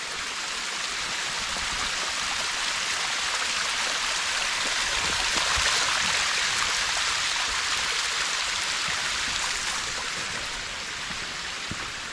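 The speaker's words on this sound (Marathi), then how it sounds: "कड्याच्या वाट्याने जाताना असे हे छोटे छोटे झरे लागतात" A small mountain stream spills along a steep village cliff path, giving a steady, close, hissing rush of water that holds an even level throughout with no voices.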